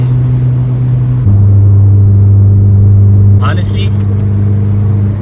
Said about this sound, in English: I have never felt the car pull that hard ever since I got the turbo on.